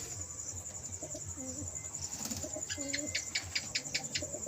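Pigeons coo in soft, repeated low calls from a nest with young chicks, while faint chirps and a steady high insect-like hiss run through the background.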